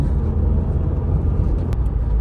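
A car out on a test drive, engine and road rumble holding steady and close throughout with no talk over it.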